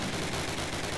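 Rapid automatic gunfire from an MG in a Carentan match of a World War II shooter, a dense continuous burst of evenly spaced, close, loud shots filling the whole moment with no talk.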